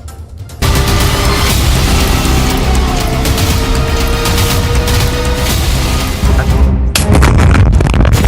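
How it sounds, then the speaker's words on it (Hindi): A heavy blast from the Israel–Hamas conflict erupts after a brief quieter start into a loud, sustained roaring rumble that churns for several seconds before ending in a crackling burst. "पहला धमाका"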